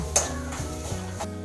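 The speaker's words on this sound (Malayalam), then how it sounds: "മുളകുപൊടിയും മല്ലിപ്പൊടിയും മഞ്ഞൾപ്പൊടി ഇട്ടാണ് വറുക്കുന്നത്" Grated coconut roasting in a pan with chilli, coriander and turmeric powder, a close, steady dry sizzle under scraping spoon strokes and a light clink of metal.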